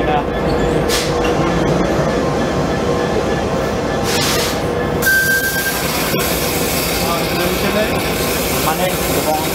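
A combo commuter train rumbles past close by with steady rolling noise, clattering wheels and a short high metallic squeal midway, loud and continuous throughout.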